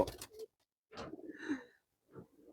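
Pigeons in a loft coo softly in a few separate low, throaty bursts with short silences between, fairly close and alone without speech.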